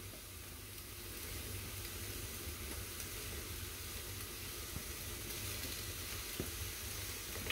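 Ground meat frying with garlic in a pan for lasagna, a faint, steady hiss of sizzling with no talk, continuous throughout.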